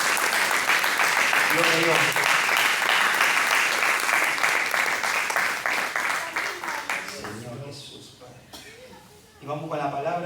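A church congregation gives loud, sustained applause during a worship service, with a voice speaking over it. The clapping fades after about seven seconds, leaving speech over quieter room sound.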